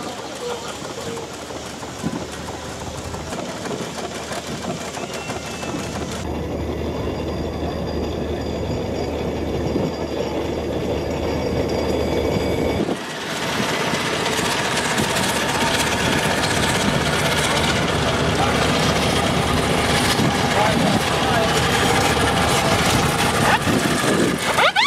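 Steam engines at an outdoor steam rally make a continuous loud mechanical rumble and chugging, with a brief drop partway through before the noise returns just as strong, amid crowd noise.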